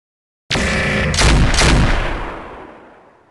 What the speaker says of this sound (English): Noton's fired one of his large lasers in both his autocannons